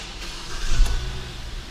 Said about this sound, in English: let me just start this car